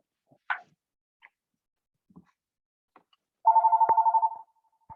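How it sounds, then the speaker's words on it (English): A landline telephone in a country home rings once in a quick electronic trill of rapid pulses lasting about a second, loud and close, after a few faint clicks and knocks in an otherwise quiet room. "That is a landline phone."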